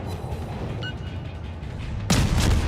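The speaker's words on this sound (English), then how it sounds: "Let's put some more gunfire into him and set him on fire again." Steady rumbling naval gunfire from the destroyer USS Nicholas in World of Warships, dense low booms throughout, then a sudden louder, brighter burst of blasts near the end.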